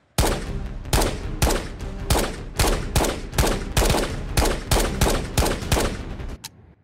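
Rapid, loud bursts of gunfire from the VR shooter game Ghosts of Tabor, about a dozen evenly spaced shots in a steady rhythm, close and punchy with no speech.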